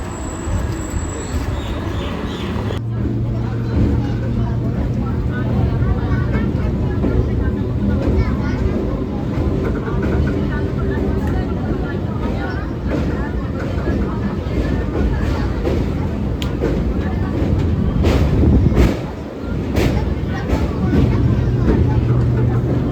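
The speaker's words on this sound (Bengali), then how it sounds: "2:41 আমাদের ট্রেন আসছে।" A Shantipur local train pulls into a station in Bengal, giving a loud, steady rumble with wind buffeting and platform noise that lasts throughout, with voices in the background.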